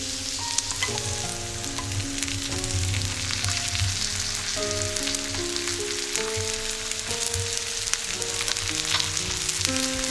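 Mushrooms frying in butter in a pan give a steady, close hiss of sizzling that runs throughout, while a faint melody plays in the background and nobody speaks.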